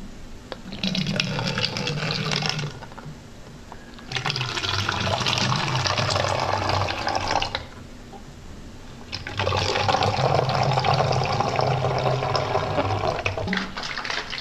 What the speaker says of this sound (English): I'm going to pour the boric acid solution into this